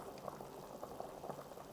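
Sweet potatoes boil in a pot of water, a steady close bubbling and popping that continues throughout with no talking.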